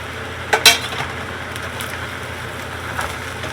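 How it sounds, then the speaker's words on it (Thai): Thai-style fried rice with fermented pork being stir-fried in a wok, a sharp metallic clank of spatula on pan followed by a steady, close sizzle and faint scraping, with no speech. "ทีนี้เราก็จะผัด"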